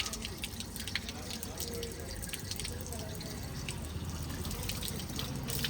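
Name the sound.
water running from a tap at a temple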